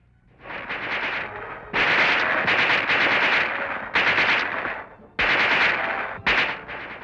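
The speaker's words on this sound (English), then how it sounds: "The submachine gun," A submachine gun fires in several long bursts of rapid, loud cracks, separated by brief pauses, close and sharp with no talk.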